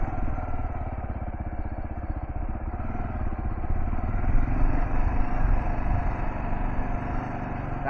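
KLR650 motorcycle engine pulling steadily up an off-road hill climb, a loud, continuous mid-pitched drone with a rapid thumping pulse and rising throttle near the middle.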